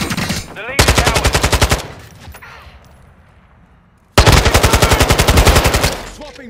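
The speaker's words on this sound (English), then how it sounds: "I'm taking fire." Call of Duty: Modern Warfare II gunfire comes as two long, loud, close bursts of rapid machine-gun fire with an even rhythm, separated by a quieter stretch of background game noise.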